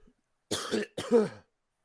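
Two rough coughs in quick succession, close and fairly loud, with brief silence around them.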